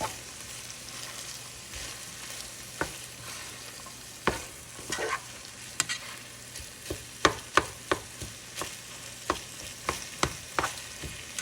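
Sweet peppers and onions are stirred into a frying pan of drunken noodles, a soft steady sizzle broken by frequent sharp scrapes and clacks of the utensil against the pan, growing busier toward the end.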